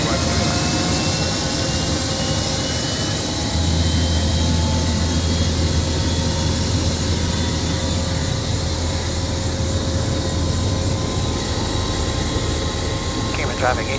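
A medical helicopter flies near an airfield, its engine and rotor making a steady droning roar that stays loud and even. A voice is heard over a radio, and a thin whine holds high above the drone.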